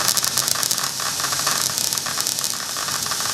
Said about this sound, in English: Adding the vinyl and the crackle.